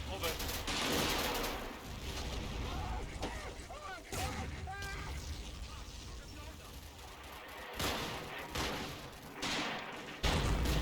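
Gunfire and artillery fire from the video game Combat Mission, a Monte Cassino battle at Point 593: dense, continuous bursts of shots and booms that stay loud throughout, with voices heard faintly beneath the clatter.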